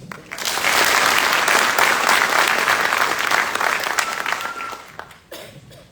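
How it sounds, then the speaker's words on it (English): A sustained round of applause from a large audience at a military graduation ceremony, loud and even, tapering off near the end. "Please join me in a round of applause."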